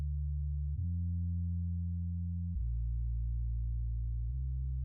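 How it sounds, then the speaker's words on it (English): Deep synthesized bass line from a self-made electronic music track, heard alone as sustained smooth low tones stepping between a few pitches in long held notes. "You can hear the bass."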